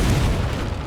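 A Confringo spell explodes in the Hogwarts Legacy video game: a short, loud, deep boom with a broad rumbling burst that fills the whole moment and fades only slightly.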